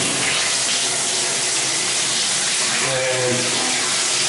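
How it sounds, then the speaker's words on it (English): Hot water running from a shower head at full pressure, a steady broadband hiss of spray, with a voice talking partway through. "So let's check the water pressure here"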